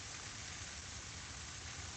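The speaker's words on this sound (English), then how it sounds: "I'm just looking at rain dropping." Steady, soft rain falls in an even, continuous hiss with no breaks or distinct drops, faint and unbroken throughout, with no one speaking.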